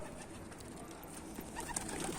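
Tumbler pigeons coo softly and repeatedly against a steady outdoor background, with a few brief brighter calls near the end.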